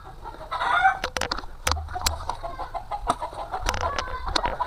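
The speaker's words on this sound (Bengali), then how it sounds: "দেখতেছেন আমার মুরগিটা কত সুন্দর অরিজিনাল দেশি মুরগি" Local desi chickens on a newly started farm cluck and squawk in sharp, repeated bursts with a rooster crowing, close and loud, with no talk.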